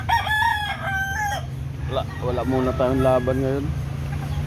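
A rooster crows loudly nearby in a small backyard chicken coop, followed by hens clucking in a rising, stuttering series, while someone talks over the birds.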